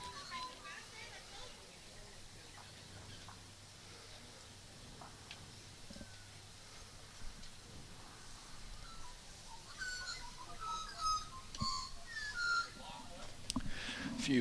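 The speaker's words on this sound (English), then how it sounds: "A few magpies chirping in the background." Magpies, including young birds, chirp and call outdoors at a lawn bowls women's singles state championship final, faint in the background and clustering near the end, with quiet voices underneath.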